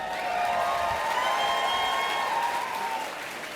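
An indoor audience at a pro-life gathering applauds steadily, a dense even wash of clapping that holds for a few seconds and tapers slightly at the end, with no talk.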